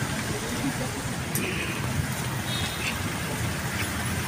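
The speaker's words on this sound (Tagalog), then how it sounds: "Dito ang pinaka-traffic sa umaga." Heavy morning road traffic of cars and buses leaving a busy traffic circle makes a continuous roadway rumble, with faint voices mixed into the steady noise.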